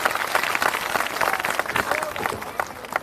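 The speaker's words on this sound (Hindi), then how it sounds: "सब आदमी जोरदार ताली बजे" Scattered clapping and crowd noise from a village public gathering in Haraul, Kusheshwarsthan, welcoming Prashant Kishor, fairly faint and uneven, with voices mixed in.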